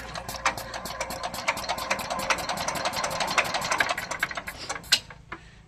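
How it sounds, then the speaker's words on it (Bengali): An old generator engine runs with a rapid, steady mechanical clatter of tightly spaced knocks at close range. It ends in a sharp bang and a brief tail. "আগে জেনারেটরটা স্টার্ট করি"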